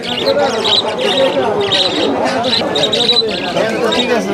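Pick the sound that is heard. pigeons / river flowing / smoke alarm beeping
pigeons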